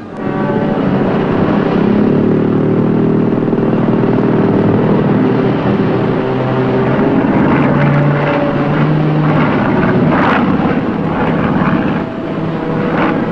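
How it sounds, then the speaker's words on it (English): A loud, steady drone of an aircraft engine fills the whole stretch, a low rumbling hum that holds constant without fading away. "There's a plane overhead."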